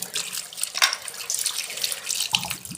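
Water runs from a kitchen faucet that had been rusty and was cleaned and repaired with a gas-cylinder wrench, a steady close splashing hiss with brief dripping flutters, and no voices.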